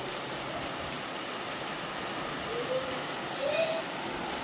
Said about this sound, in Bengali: এই দেখো ঝমঝম করে বৃষ্টি পড়ছে